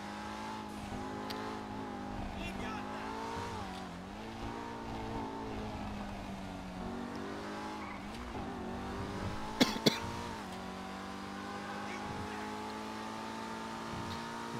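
A Lexus LFA-style supercar engine in GTA 5 Online revs and holds a loud, aggressive, continuous wail with rising and falling pitch sweeps, plus a couple of sharp clicks near the end and no talk.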